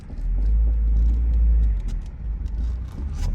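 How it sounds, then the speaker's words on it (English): A 1997 VW Golf Trek edition with a manual transmission pulls away in first gear, giving a steady close low engine rumble that swells and then eases slightly, with no one talking. "Manual transmission, put her in first gear here."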